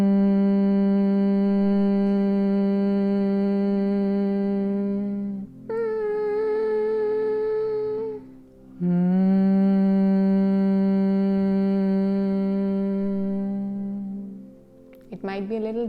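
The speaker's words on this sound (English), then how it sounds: "When you take the breath in, there also you make the humming sound" A voice hums in long, steady tones while inhaling, as in bee-breath pranayama, pitch shifting higher in the middle and returning low, with short breaks between.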